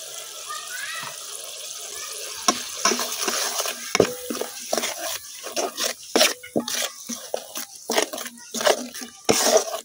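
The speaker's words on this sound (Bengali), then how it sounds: "এখন মশলাটা কিছুক্ষণ কষাইলাম" Spice paste of turmeric, chili and coriander powder with salt being sautéed in a pan over a new clay village stove, with irregular scraping stirs and crackling bursts.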